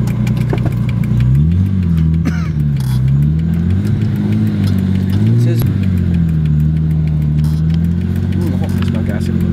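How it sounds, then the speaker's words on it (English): An RB20DET-swapped Mazda Cosmo drift car revs through its exhaust, loud and close, the engine note rising and falling in several blips over an idle while a person talks over it. "Not sure if you can hear me over the sound of the exhaust."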